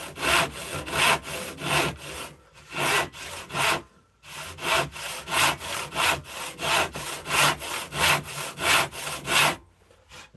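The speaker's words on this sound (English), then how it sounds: "People piling in to watch me cut some MDF" A hand saw cuts through MDF board in quick back-and-forth strokes, a rhythmic rasping close up with brief pauses between runs of strokes and no talking.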